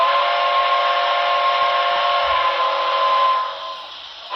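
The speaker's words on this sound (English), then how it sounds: "So here are the whistles." The default whistle of a Broadway Limited Paragon 4 model ATSF 4000 class steam locomotive, a steady, shrill blow continuing for about four seconds, close and loud, tapering slightly at the end.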